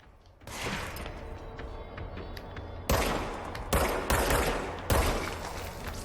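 Enemy gunfire in the video game Control, several sharp broadband bursts and rapid volleys of shots over a sustained noisy bed, fairly loud and close, with no talking.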